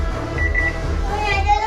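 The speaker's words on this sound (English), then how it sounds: "the timer's going off" A kitchen oven timer beeps for a tray of brownies in short, thin tones, half buried under children's voices and household noise.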